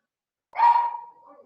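A single sharp Chihuahua bark, close and fairly loud, trailing off into a softer whine.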